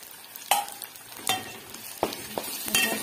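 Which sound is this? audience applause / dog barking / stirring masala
stirring masala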